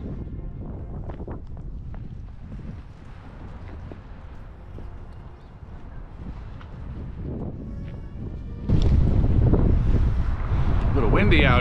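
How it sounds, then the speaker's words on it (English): Wind buffets a microphone outdoors on a Chicago street, a rumbling gusty roar that swells much louder near the end, with passing city sounds and some talk mixed in. "A little windy out here."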